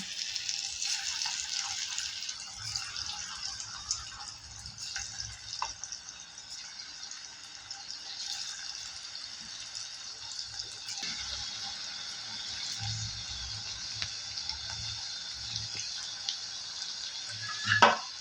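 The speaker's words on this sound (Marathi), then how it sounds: "आपण आता पालक वडी तळून घेऊया." Spinach vadi frying in hot oil, a steady soft sizzle and crackle with faint bubbling running throughout, ending in a brief louder clatter.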